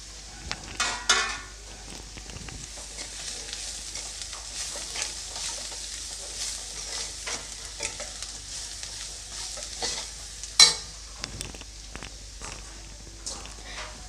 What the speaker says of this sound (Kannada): ಇವಾಗ ನಾನು ಫ್ರೈ ಮಾಡಿಟ್ಕೊಂಡಿರುವಂತಹ ಪನ್ನೀರನ್ನು ಸೇರಿಸ್ಕೊಳ್ತಾ ಇದ್ದೀನಿ